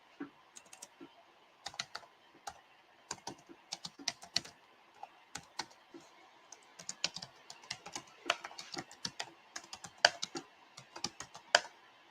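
Typing on a computer keyboard to enter a puzzle game's name, heard as quiet, close clicks in irregular bursts and pauses with no talk over them.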